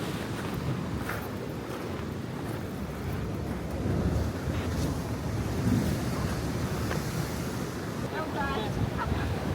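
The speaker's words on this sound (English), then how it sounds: "But the waves really do crash over here." Surf crashes onto the shore at Cozumel, Mexico, as a steady, loud wash of breaking waves with surges, mixed with wind buffeting the microphone throughout.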